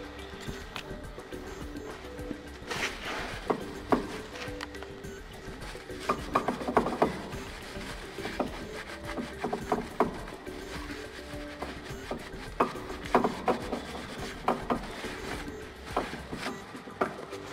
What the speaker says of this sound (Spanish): Le pasamos una pequeña lija.